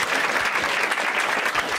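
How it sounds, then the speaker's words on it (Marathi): A stand-up comedy audience breaks into loud, dense clapping that holds steady for about two seconds, close and full with no talking over it. "एकदा टाळ्या वाजवा दोघांसाठी"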